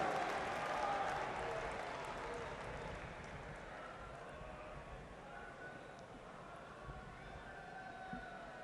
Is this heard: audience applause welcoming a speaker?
yes